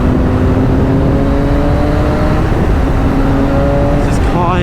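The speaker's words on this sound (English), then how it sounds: "It's got such a little raspy tone to the 3-cylinder as well." A Triumph Speed Triple 1050 three-cylinder motorcycle engine revs loud and close with a raspy tone, its steady pitch climbing gradually and wind rushing past, heard from the rider's position.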